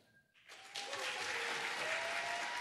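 A concert audience breaks into applause after a brief quiet moment, the clapping swelling quickly into a dense, sustained ovation that fills the room.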